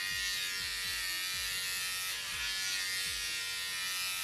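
A battery-operated Wahl electric shaver from a drugstore's men's section buzzes steadily and close up, a continuous high whine with no voices over it.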